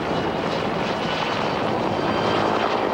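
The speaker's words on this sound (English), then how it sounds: "A half-dozen water-dropping helicopters were crisscrossing the stubborn Griffith Park fires all afternoon" Water-dropping firefighting helicopters crisscross over the Griffith Park brush fires, a steady whirring rotor and engine drone with a wide rushing hiss.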